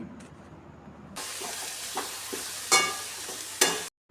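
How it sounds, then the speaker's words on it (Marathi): A ground onion-coconut paste is stirred into spices frying in a pan. After a quiet start, a sizzle kicks in, with two louder scraping bursts, and then cuts off abruptly. "आता हे घातलेले वाटण या मसाल्यांमध्ये आपल्याला चांगलं असं मिक्स करून आहे"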